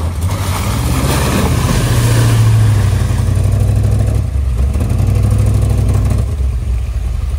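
A white Ford Explorer drives off-road through a hole, its engine droning loud and close with a sustained low rumble that rises and falls as it works under load.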